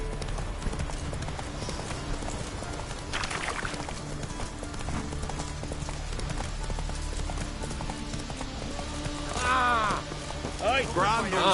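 Roach, Geralt's horse in The Witcher 3: Wild Hunt, gallops with a steady rapid clip-clop of hooves under a dense ambient game soundscape, with brief voices and a short neigh-like sound near the end.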